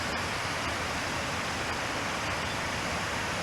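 A waterfall at an abandoned aqueduct reservoir gives off a steady, broad rushing hiss, continuous and even from start to end with no voices.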